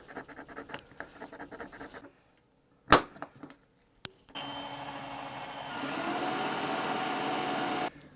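A file working down an old drill mark on a post: short scratchy strokes at first, a sharp scrape, then a longer steady rasping passage that grows louder before stopping, with no talking.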